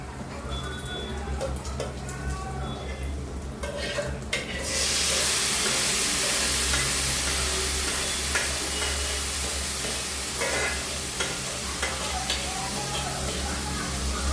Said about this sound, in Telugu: చింతపండు ఉడికించి పెట్టుకున్నాం కదా అది యాడ్ చేసేసుకోవడమే పోపులో